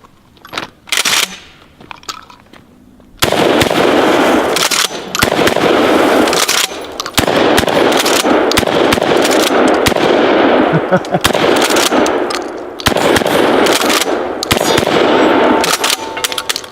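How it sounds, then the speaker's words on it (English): A DP-12 shotgun firing birdshot: loud, sharp blasts in quick bursts of several shots, separated by brief pauses, close and booming outdoors. "So birdshot. All right. Let's take a couple of shots with this."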